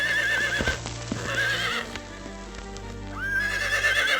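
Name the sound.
wild horses neighing and hooves clip-clopping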